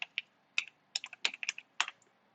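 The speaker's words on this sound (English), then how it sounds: "I'm so bad at typing." Quick, uneven clicks of typing on a computer keyboard, close and crisp, come in short bursts with brief pauses and no talking.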